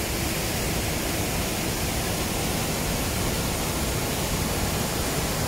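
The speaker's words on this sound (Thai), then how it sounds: "นี่ครับน้ำตกแก่งซองนะครับเต็มไปด้วยโขดหิน" Kaeng Song waterfall in Thailand spilling over rocks, a thick, unbroken roar of rushing water, loud and close, steady from start to end with no voices over it.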